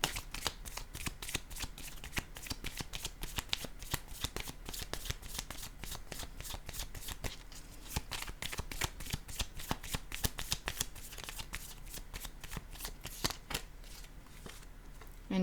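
Oracle cards shuffled by hand before drawing a new card, a steady stream of close, crisp flicking and riffling clicks running the full length with no voice over it.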